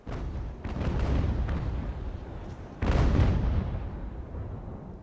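Sailing-ship cannons fire grape shot in the naval game Ultimate Admiral: Age of Sail, a few rumbling booms in succession ending in one heavier, louder blast with a long fading roll.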